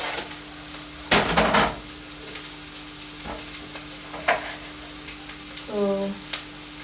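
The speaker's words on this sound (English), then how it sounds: "Because I already see that my ginger is cooked, my onion is brown." Ginger and onion fry in a pan until browned, giving a steady close sizzle with a few louder stirring clatters and a brief voice near the end.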